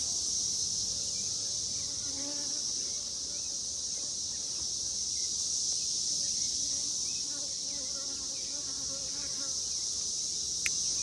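A steady, dense hum of honeybees buzzing around beehives in an apiary while queens are being introduced, continuous and close throughout with no clear speech.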